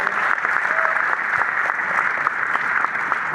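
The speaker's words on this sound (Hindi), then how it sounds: "उनको जोरदार ताली बजाकर उनका स्वागत है।" An audience at a regional tourism conclave claps to welcome dignitaries, with steady, full applause of many hands at a constant level and no break.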